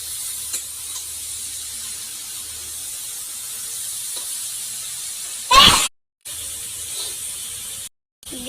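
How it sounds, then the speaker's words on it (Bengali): Jaggery water hits a hot frying pan in a sudden loud sizzling hiss, brief and close, over a quiet kitchen background, with short cut-offs after. "দিয়ে দিলাম গুড়ের জলটা।"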